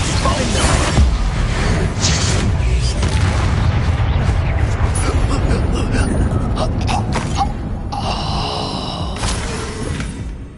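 A Bombarda blasting spell explodes in the Hogwarts Legacy video game, a loud, dense burst of rumbling booms and crackling debris that fills the whole stretch, with sharp high crackles near the end.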